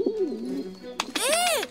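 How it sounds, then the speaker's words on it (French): Cartoon pigeon cooing in a few soft, warbling calls, close and fairly quiet, with a brighter rising-and-falling coo at the end. "Un pigeon? Il est encore vivant."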